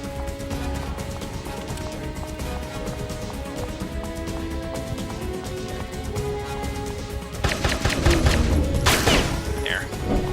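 Gunshots from the third-person shooter Headhunter, a loud cluster of shots and impacts near the end, over steady game music and ambience.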